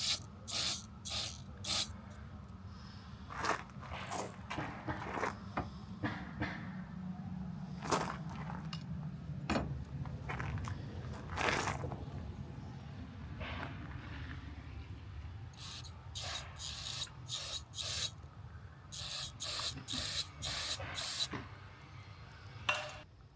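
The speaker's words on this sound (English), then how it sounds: "we're just gonna go ahead and clean all this stuff out with some carburetor cleaner" Carburetor cleaner sprayed into the carburetor of a Honda EU2000i generator that only runs with the choke on, in repeated short hissing bursts close to the mic between quieter handling sounds.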